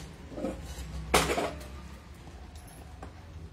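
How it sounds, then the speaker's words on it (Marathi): A metal kadhai pan is set down on a stove while spices are being prepared, giving one sharp clank partway through, with quieter bumps and clinks around it. "बघा आता इथे मी एक कढई ठेवलेली आहे"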